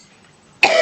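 A single short cough from a woman teacher during a school curriculum lesson, sudden and fairly loud after near-silence at the very end.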